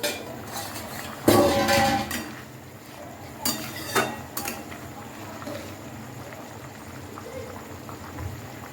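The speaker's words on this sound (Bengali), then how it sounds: "ঢাকাটা তুলে একটু দেখে নেব।" Metal pot lid lifted off a simmering pan of aloo dum in a home kitchen, a sharp clank near the start followed by a few lighter clinks and scrapes over quiet bubbling.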